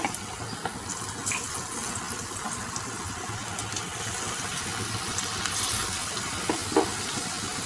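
Okra pieces sizzling in hot oil in a pan for crispy bhindi, a steady even hiss of frying that runs throughout at moderate level with no speech.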